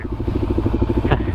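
A BMW GS motorcycle's boxer engine chugs close by in a steady, even pulse at low revs on a Kentucky dirt trail through Land Between the Lakes.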